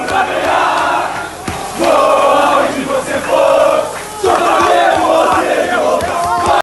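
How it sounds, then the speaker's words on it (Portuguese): Football supporters at Bento Freitas stadium roar and chant loudly in a dense crowd, welcoming their team's arrival with surging waves of battle cries. "Na chegada ao Bento Freitas, a recepção calorosa do torcedor aos guerreiros que enfrentariam Manaus."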